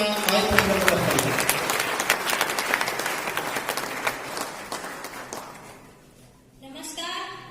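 Loud applause from a celebration crowd, many hands clapping in a dense rush that gradually thins out, followed by a short stretch of speech.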